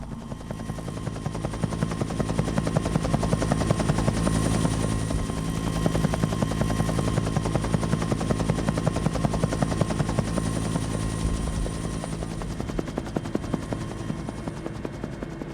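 An old Russian helicopter in flight over Darfur gives a continuous heavy rotor thrum with rapid chopping pulses and a steady engine whine, sustained and fairly close throughout, with no talk.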